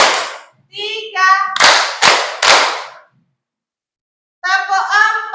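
Children clap their hands in short counted bursts, three sharp claps in a row between stretches of sung or chanted voices, close and loud, with a pause of silence before the voices return.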